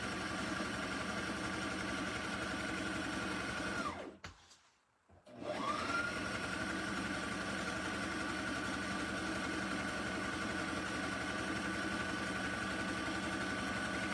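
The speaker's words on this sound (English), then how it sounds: "we're going to sew all the way around to that clip" A sewing machine runs steadily, stitching a purse made from a dish mat and kitchen towel. It pauses briefly about a third of the way through and then resumes its continuous whir.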